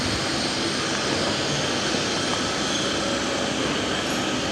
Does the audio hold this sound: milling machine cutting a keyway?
yes